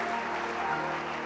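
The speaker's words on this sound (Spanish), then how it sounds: "Demos fuerte ese aplauso al autor de nuestra salvación" A church congregation claps in a steady, dense wash of applause that carries through the whole short moment.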